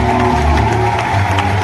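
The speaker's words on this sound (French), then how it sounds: "Est-ce qu'on peut applaudir encore?" Applause at a religious church wedding, a short burst of crowd clapping and cheering held steady and loud over a low musical hum.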